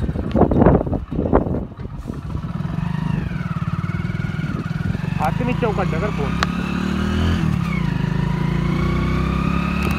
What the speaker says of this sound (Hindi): बाइक 70 ही भाग पाई, क्योंकि ऐसे चढ़ाव था ऊपर फ्लाई ओवर पर।